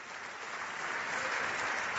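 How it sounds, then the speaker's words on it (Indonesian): A church congregation breaks into applause during a sermon, a dense, steady wash of many hands clapping together that holds level and grows slightly fuller over two seconds, with no voices standing out. "Tepuk tangan bagi Allah kita."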